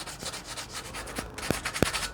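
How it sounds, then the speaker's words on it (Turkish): Rough rubbing and scraping of sandpaper on a rusty wooden table surface, with a few sharper knocks toward the end; steady and close, no talking. "Kimi kısımlara zımpara"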